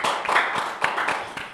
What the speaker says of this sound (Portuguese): palmas para o nosso convidado, Felipe Sampaio